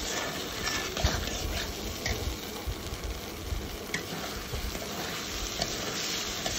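Jackfruit seeds and spice masala frying in oil, a steady, close sizzle with soft stirring scrapes and no voices.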